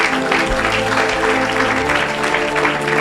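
A church congregation cheering and applauding for Jesus, a loud continuous wash of clapping and shouts with a low musical drone underneath, filling the hall.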